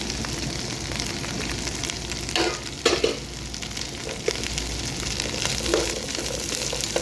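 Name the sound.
cut okra frying in cooking oil in a pan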